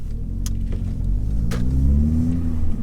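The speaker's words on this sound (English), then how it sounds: "I love that induction sound. It just sounds like it's got a dump valve." A 300 bhp R Tech Stage 1 VW Golf GTI Edition 30 growls as it accelerates, a low rumbling engine tone rising steadily with a couple of faint clicks, heard from inside the car without talk.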